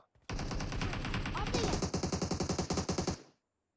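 Automatic gunfire from PUBG Mobile, a continuous roaring burst that breaks into a rapid string of distinct loud shots before cutting off, close and dense.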